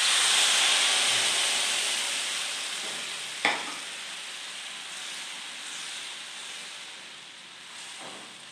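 Tomatoes dropped into a pan of frying garlic that has turned reddish, giving a steady loud sizzle and hiss with a sharp burst as they land, then a softer continuous frying that fades slightly, with a brief stir near the end.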